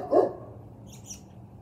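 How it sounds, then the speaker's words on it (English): A dog gives a single sharp bark at the start, fairly close, followed by faint high chirps and quiet background. "This dog's so"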